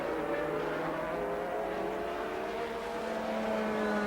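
Formula 1 race cars of the 1982 season roar along the track, a continuous layered engine drone of several cars at moderate distance, steady for a few seconds with no voice over it.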